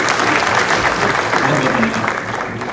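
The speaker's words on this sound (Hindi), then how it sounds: "एक बार जोर से तालियां बजाएं" Dense, loud applause from a conference audience at an agricultural research institute in Delhi, a steady wash of many hands clapping that fades slightly toward the end.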